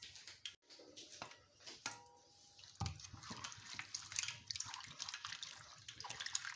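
Water is poured over sliced potatoes being rinsed for homemade chips, a faint, uneven splashing and trickling with a few soft drips and knocks close by.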